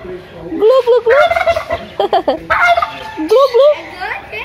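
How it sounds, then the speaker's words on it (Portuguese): A farm turkey gobbles loudly and close by in several rapid, warbling bursts with short gaps between them. "É um peru."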